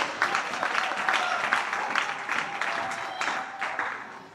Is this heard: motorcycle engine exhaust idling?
no